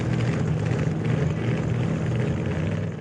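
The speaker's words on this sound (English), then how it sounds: "as he now sat with his engine running" A racing car sits on the starting grid with its engine running, a steady low droning hum holding constant and fairly loud throughout, with no voices over it.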